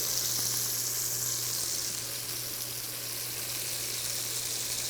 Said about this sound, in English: If you hear the sizzle, we're good.